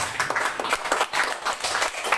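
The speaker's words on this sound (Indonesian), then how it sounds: "Beri tepuk tangan dulu buat Tuhan" Congregation clapping for God during a church service, a steady patter of many hands at close range, continuous and fairly even throughout.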